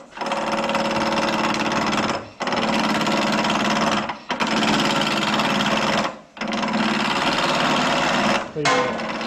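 Wood lathe spinning as a chisel cuts a small wooden baby rattle, a steady loud whirring drone broken by four short pauses where the cut stops and restarts.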